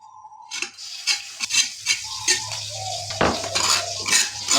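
Sambal chili paste frying in a pan of reused cooking oil for fried tiwul rice, with a soft steady sizzle under repeated scraping and clinking of a utensil stirring against the pan.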